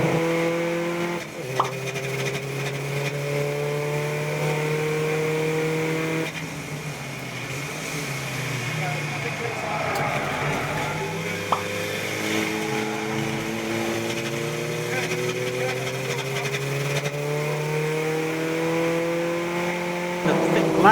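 Number 12 VW Golf TDI diesel racing around Silverstone in a club endurance race, its engine droning steadily and rising in pitch through the gears, with other race cars passing and commentary running over the top.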